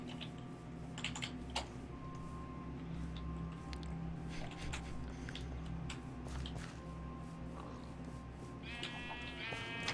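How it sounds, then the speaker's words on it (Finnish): Sheep bleating in the video game Minecraft, with a short run of repeated bleats near the end over a steady din of game sound and keyboard typing. "Lammas!"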